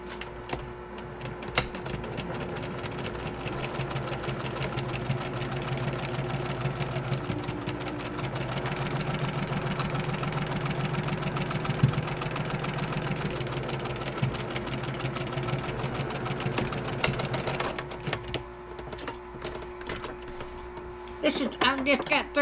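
Steady mechanical hum of a sewing machine stitching a quarter-inch quilt seam, running continuously at moderate loudness for most of the stretch, then stopping into faint clicks and handling noises near the end.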